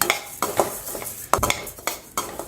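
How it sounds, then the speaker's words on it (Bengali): Moong dal dry roasting in a hot kadai is stirred with a metal spoon, giving a series of sharp scraping and clinking strokes against the pan at an irregular rhythm, close and fairly quiet. "মুগ ডালটাকে প্রথমে একটু ড্রাই রোস্ট করে নিচ্ছি"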